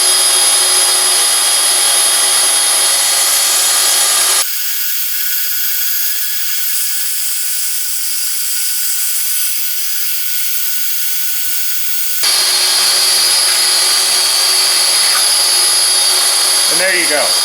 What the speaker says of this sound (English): I'm going to take a piece of steel square tubing, and I'm going to just go ahead and cut it in half with this